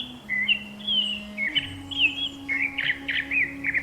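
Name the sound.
birds and animals calling in a forest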